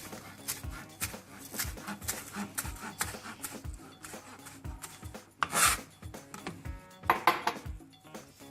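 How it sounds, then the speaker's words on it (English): A knife rocking back and forth on a cutting board while slicing green onion, steady rhythmic taps and scrapes about twice a second, close and moderately quiet with a few louder clatters. "When you're slicing the green onion, you're just going to rock the knife back and forth like this"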